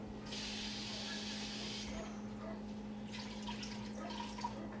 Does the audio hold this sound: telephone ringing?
no